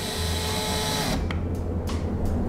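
A cordless drill whirs steadily, its motor holding a constant pitch through the whole stretch before the tone shifts slightly near the end, loud and close with no talk.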